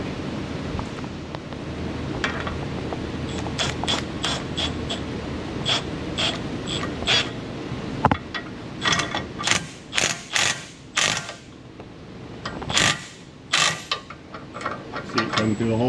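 Ratchet tightening a torsion bar lift key bolt on a 4x4 truck, with rapid clicking bursts that grow more frequent and distinct toward the end over low shop noise.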